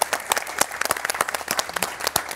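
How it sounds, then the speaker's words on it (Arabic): A studio audience claps in a quick burst of applause, sharp, close hand claps layered unevenly over a few seconds. "زوج مرات، زوج مرات صفقوا لهم."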